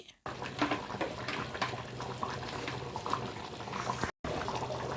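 Tomato chutney bubbles in a pan, a steady close simmering hiss and pop that continues throughout, broken by one brief cut to silence.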